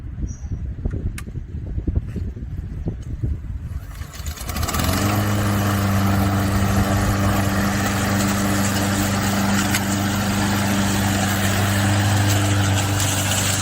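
After some shuffling and handling noises, a 200cc lawnmower engine starts on the first pull and settles into a loud, steady running drone that continues close to the microphone.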